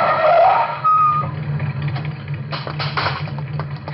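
A car turns a street corner and skids in an old radio thriller scene, its engine revving loudly and tires screeching, followed by a short burst of rough rumbling and clatter.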